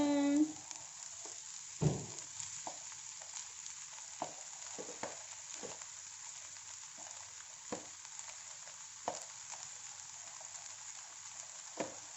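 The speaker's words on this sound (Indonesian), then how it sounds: "Kita masukkan nasinya." Steady sizzling of rice for salted-fish fried rice frying in a hot pan, with occasional scraping and stirring clicks, continuous and close.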